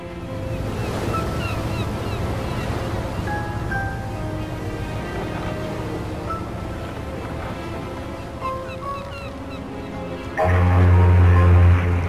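Ocean waves and wind roll steadily in Mafia 2, a broad continuous wash with faint tonal music or ship sounds over it, swelling louder near the end.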